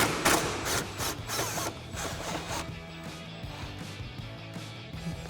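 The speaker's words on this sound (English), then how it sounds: "use our 10mm socket and extension on our impact to run this out real quick" Impact wrench with a 10mm socket and extension running out a bolt on a Toyota Tundra, a short burst of loud rattling hammering up front, then a quieter mechanical whir.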